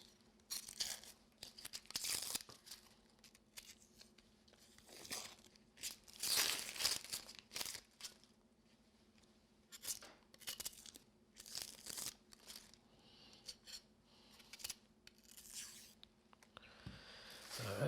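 Vegetable skin being peeled off by hand for jambalaya, giving bursts of dry tearing and crinkling with short pauses between pulls, close and fairly quiet.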